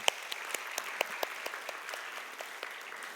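A church congregation claps in thanks after a musical worship piece at a youth service, with scattered, uneven hand claps that thin out over a few seconds and stay fairly soft and distant, with no voices.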